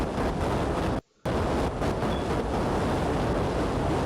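Rocket engine firing at launch in Kerbal Space Program, a loud continuous broadband roar that cuts out briefly near the start, then resumes and holds steady without talk.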